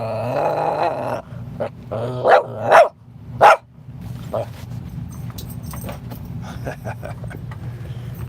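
A dog barks and growls in a few sharp, loud bursts close by, over a steady low background hum, with a voice talking briefly early on.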